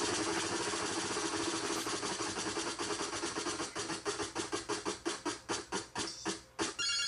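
The prize wheel in the NES Wheel of Fortune game spins with rapid electronic ticking that gradually slows, the clicks spreading farther apart until it stops near the end, with no talk over it.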